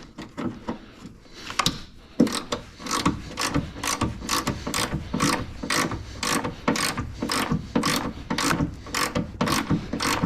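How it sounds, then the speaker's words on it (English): A ratchet fitted with a 10mm socket clicks in quick, regular strokes while working on a 2nd Gen Cummins during an AirDog 150 install. The sound is close and continuous, with no talking. "Grab me a 10mm socket. One of my old dud ratchets."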